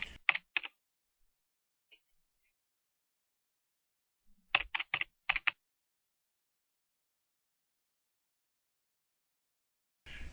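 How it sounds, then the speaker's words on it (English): Keystrokes on a computer keyboard entering a library card number and PIN into a catalog login form: a short burst of quick taps, a long quiet pause, then a second burst of several keystrokes, close and fairly quiet. "We put in John Demo's library card number and his PIN number."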